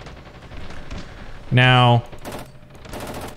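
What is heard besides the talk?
light tank coaxial machine gun firing in Ravenfield video game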